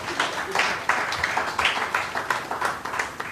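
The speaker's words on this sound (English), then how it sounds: "I think we should give another round of applause" An audience at a Garifuna conference claps a steady round of applause, fairly loud and continuous, with individual claps standing out in a regular rhythm.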